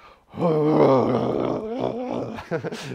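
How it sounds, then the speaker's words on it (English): A person gives a long, exaggerated voiced yawn during a beginner yoga and meditation session, a loud groaning tone that rises and falls before trailing off with a breathy exhale. "And try to make this yawning now positive."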